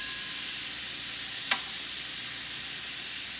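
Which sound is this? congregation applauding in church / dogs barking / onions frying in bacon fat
onions frying in bacon fat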